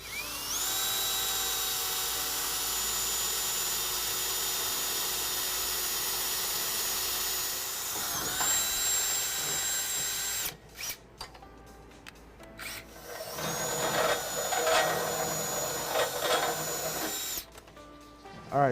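A power drill bores a half-inch hole through the steel frame of a 2014 Ram 1500 for a front-mount trailer hitch, whining steadily and loudly for several seconds, then stuttering in short bursts as the bit bites and breaks through.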